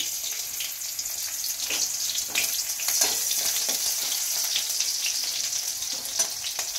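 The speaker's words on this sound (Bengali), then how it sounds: "কাঁচা লঙ্কাটা একটু পটপট করে ভাজা হলে তখন একটু পেঁয়াজ দিয়ে দেব" Green chillies fry and crackle in hot oil for a chowmein, a steady bright sizzle with scattered sharp pops running throughout, close and alone.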